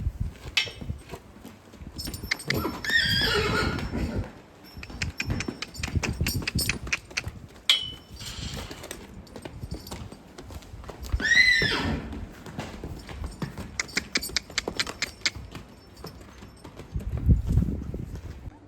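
Horses neigh and whinny in a Gujarati village setting among cows, with hooves clip-clopping in bursts, close and fairly loud, and a few shouts and calls in the background.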